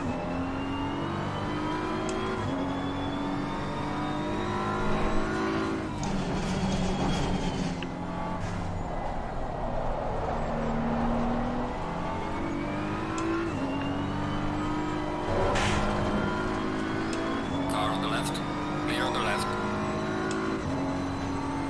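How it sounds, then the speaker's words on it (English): Racing cars in a racing video game close in and pass with a steady, loud engine drone that rises and falls in pitch as cars overtake, over about twenty seconds, with no talking. "Faster cars approaching."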